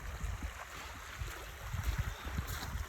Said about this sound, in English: So this is flowing pretty good. On up here, we call this the Feather Creek.